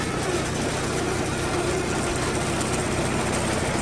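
A 1955 International 400 tractor engine runs steadily under a little throttle, a dense, even mechanical rumble with broadband noise that holds constant throughout and has no voices over it.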